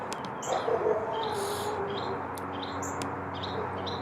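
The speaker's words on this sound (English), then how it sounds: "there's just lots of birds around" Many birds chirp outdoors in scattered short tweets and calls, some near and some farther off, over a steady background hum of ambient noise.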